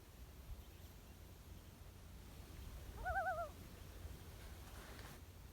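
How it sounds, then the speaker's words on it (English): A common loon gives a single wavering tremolo call near a boat on a lake, brief and fairly close, rising over soft wind and water noise. "And a loon right by my boat"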